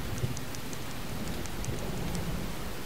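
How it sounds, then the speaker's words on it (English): Steady rain falls in a cutscene from the video game Disaster: Day of Crisis, a soft, continuous hiss of drops with a few faint patters on top and no voices. "starting to rain."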